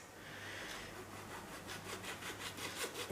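A knife trims white pith from orange peel for marmalade, a soft rhythmic scraping and rasping, close and quiet, with strokes that grow more distinct toward the end.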